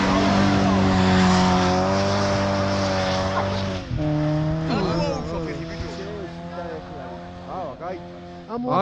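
A car struggles to drive through snow with its tires spinning: a loud, sustained engine roar whose pitch rises and falls as the wheels spin, with people talking over it.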